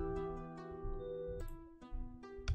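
Synth arpeggio in a drill beat, slowed by a halftime preset, plays alone as sustained tonal notes with a few brighter attacks spread across the bar.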